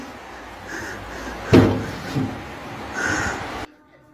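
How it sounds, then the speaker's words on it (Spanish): A child knocks on a door in the early hours of the night: two muffled thuds, the first louder, set against a steady background hiss. "Hay un niño golpeando la puerta."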